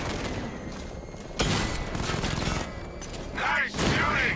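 Gunfire in the Batman: Arkham Knight video game, with a sharp loud burst of shots and rattling mechanical clatter mixed with game effects; a voice speaks briefly near the end.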